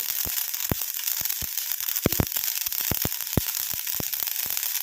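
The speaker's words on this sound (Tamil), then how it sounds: "நல்லா கடுகு வந்து பொரியட்டும் பார்த்து பொரிய ஆரம்பிச்சிருச்சு பாருங்கள் எப்படி பொரியுதுன்ட்டு" Mustard seeds popping and crackling in hot oil, a steady sizzle under scattered sharp pops, irregular and close, some landing in quick pairs, with no voice.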